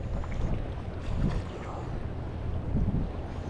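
Wind gusts in a steady low roar across the microphone on a shoreline during lure fishing, with choppy water lapping underneath and no other clear sounds.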